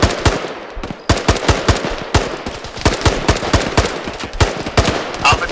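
Bursts of automatic machine gun fire in an ArmA 3 combat mission, sharp repeated shots in uneven rapid strings with a few louder close cracks, continuous across the whole stretch with no talk.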